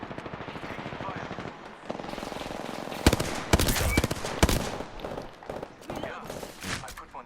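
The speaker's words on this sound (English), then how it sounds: "Oh, we're getting sniped at from somewhere." Rapid bursts of gunfire in the Apex Legends battle royale, with sharp loud cracks around the middle of the clip and sustained rattling fire before and after, heard over game noise.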